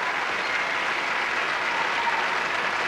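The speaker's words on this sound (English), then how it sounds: "The distinguished audience applaud as they have manfully throughout." Audience applause at the 1990 Eurovision Song Contest in Zagreb, Yugoslavia: a dense, steady wash of clapping from a large hall crowd, loud and continuous throughout.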